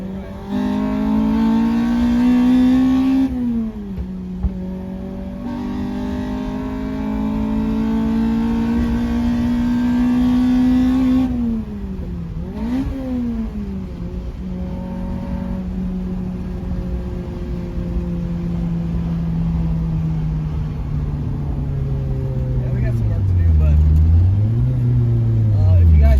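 A Mitsubishi Eclipse with a swapped K-series engine (K24/K20) pulls hard through several gears, its loud rising rev climbing and dropping at each shift, while someone speaks over the engine noise.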